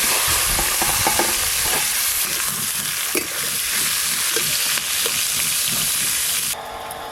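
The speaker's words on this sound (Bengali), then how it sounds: "তেল খুব ভালো করে গরম হয়ে গেল। এবার এই কাঁটাগুলো ভেজে নেব।" Bhetki fish bones fry loudly in hot oil, a dense, crackling sizzle with irregular stirring knocks throughout, easing slightly near the end, with no talking.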